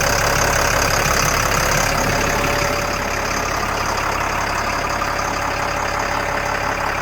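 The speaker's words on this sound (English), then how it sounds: "There's the turbo right there." A turbocharged, intercooled LMTV M1078A1 military truck engine idles steadily after a cold start, a continuous close diesel rumble with a faint turbo whine above it.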